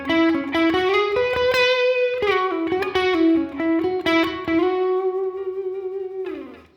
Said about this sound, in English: lick 2 sounds like this.